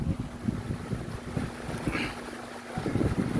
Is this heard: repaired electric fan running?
yes